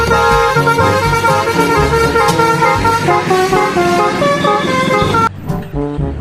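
A toy telolet bus horn plays a loud, bright melodic honking tune that continues steadily before cutting to a brief quieter tail, with no talk over it.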